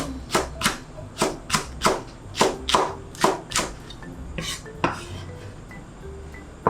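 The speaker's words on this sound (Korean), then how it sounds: "파는 동글동글하게 숭숭 썰어주세요." A knife slices green onion into rounds on a cutting board in a home kitchen while potato soup is being made, about a dozen crisp, evenly spaced chops close by, then a few slower cuts.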